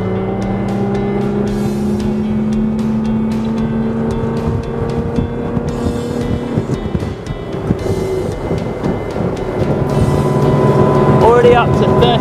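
A Draco 27 RS motorboat's Yamaha 300 outboard engine roars steadily and climbs in pitch as it accelerates to about 31 knots, with wind and water rushing close by.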